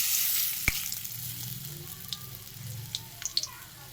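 Fritters of leafy greens frying in hot oil, a steady close sizzle with one sharp click early on and scattered small pops, with no talking.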